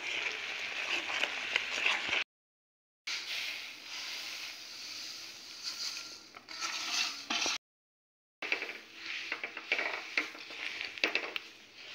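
Roasted sesame seeds poured into jaggery cooking down in a pan, giving a steady close sizzle and hiss with stirring scrapes, broken by two brief silent gaps.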